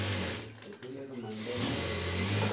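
A sewing machine stitches garments in a clothing workshop at a wholesale market, its continuous close whirring motor running without a break, with indistinct voices in the background.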